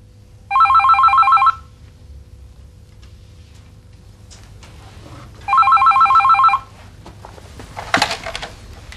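A telephone trills in two short electronic ringing bursts several seconds apart, loud and near, followed by faint handling clicks and a soft knock in a quiet room.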